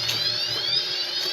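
The keyless entry alarm of a Mio i 125 scooter sounds as a steady, loud electronic tone that holds without a break from start to finish.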